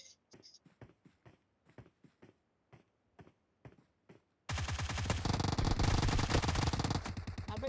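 Gunfire in PUBG Mobile: a slow series of single distant shots with silent gaps, then a loud continuous sustained automatic burst that dominates the rest.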